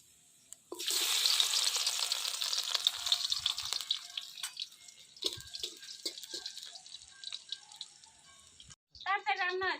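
Garlic dropped into hot oil in a heated wok with nigella seeds, bursting into a loud sizzle that fades to a softer crackle, with a few clicks and then a brief voice at the end.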